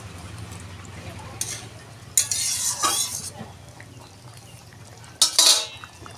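Fish curry bubbles in a pan on the stove, a low simmering hiss that runs throughout, broken by a few loud bursts of metal utensil clatter and scraping.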